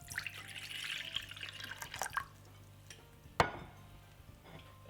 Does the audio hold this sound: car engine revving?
no